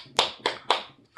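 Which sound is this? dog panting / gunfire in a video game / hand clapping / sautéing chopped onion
hand clapping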